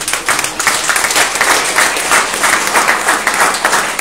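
A church congregation bursts into sustained, dense applause, many hands clapping loudly and steadily throughout with no break.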